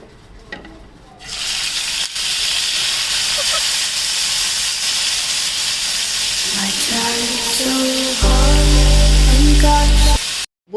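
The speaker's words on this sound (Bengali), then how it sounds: "আমি তেল দিচ্ছি আমি এখন বটি কাবাবটা ছেড়ে দেবো" Boti kebab meets hot oil in a pan, starting a loud, broad hiss that runs for about nine seconds. A tonal hum is layered on near the end, and the sizzle cuts off abruptly.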